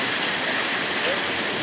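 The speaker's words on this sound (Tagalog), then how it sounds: "sa Cabuanga Waterfalls." Cabuanga Waterfalls pours with a steady, full roar of rushing water, a dense unbroken wash close by along a trail.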